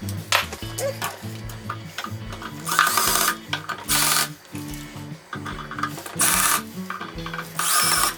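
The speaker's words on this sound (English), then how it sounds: "You'll see how I'm alternating screwing in these sides, because with these long screws for cabinet pulls" A screwdriver drives long screws into cabinet pulls through the back of a cabinet door, giving bursts of grinding, rasping turns separated by short pauses, close and fairly loud.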